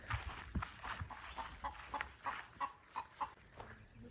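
Chickens cluck in a backyard coop on a large family farm, giving a steady series of soft, rhythmic clucks at moderate distance over faint outdoor background noise.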